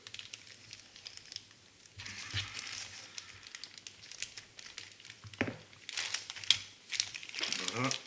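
Crinkly plastic packaging around the wheels of a Revell 1/25 El Camino model kit rustles and crackles as it is opened by hand, close and fairly loud in bursts, with a voice speaking over it.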